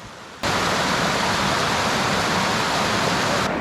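Steady roaring rush of river water flowing near Dhangar waterfall, loud and continuous, starting abruptly and holding constant without voices.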